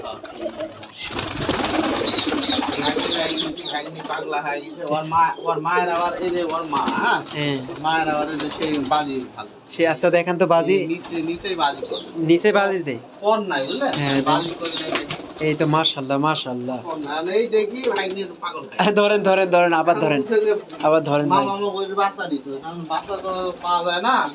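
Giribaz pigeons at a Rajshahi pigeon farm coo continuously in low, throaty rolls, many birds close by, while people talk over the calls throughout.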